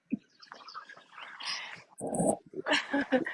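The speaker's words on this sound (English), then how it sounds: "the neighbor with his badass dogs that he lets run around" Dogs growl and snarl in short close bursts, with whimpers and yips between them, loud and uneven.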